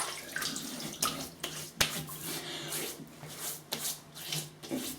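Tap water runs while a face is wetted before a shave, with close splashing and rubbing sounds in uneven bursts and a faint steady flow underneath.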